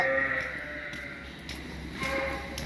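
A milk-producing ewe bleats clearly at close range, two drawn-out wavering calls separated by a short pause, over the low murmur of the farm.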